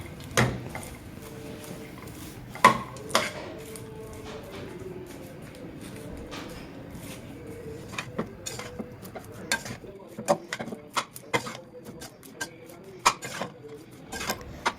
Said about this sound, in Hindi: अब मैं इसको इस तरह से चमचे से चला के सारे गुड़ को पॉपकॉर्न में मिक्स कर दूंगी